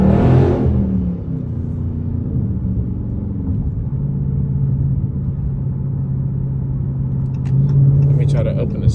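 A 2022 Dodge Charger 392 Scat Pack in sport mode, its deep steady exhaust rumble droning inside the cabin while it drives through tunnels, with a brief burst of talk at the start.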